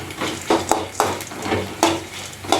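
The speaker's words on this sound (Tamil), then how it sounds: "வறுத்தாலும் மல்லியும் கொஞ்சம் எண்ணெய் விட்டு வறுக்கணும்." Coriander seeds roasting in a little oil for Tirunelveli-style idli sambar, stirred around a pan with sharp scrapes and clinks every half second or so over a steady soft sizzle, close up.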